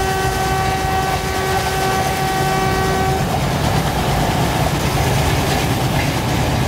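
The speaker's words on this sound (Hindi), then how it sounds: "मतलब चगिंग साउंड सुन रहे हो इसकी" Diesel locomotive in the Train Simulator video game, a loud continuous rumbling drone of engine and rolling rail noise, with a steady tonal hum that cuts out partway through while the low chugging roar carries on.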